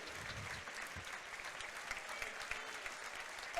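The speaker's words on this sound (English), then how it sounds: "Big round of applause for Graham." An indoor crowd at the Skydome rink applauds a departing staff member, steady dense clapping from many hands holding at an even level for several seconds with no voices on top.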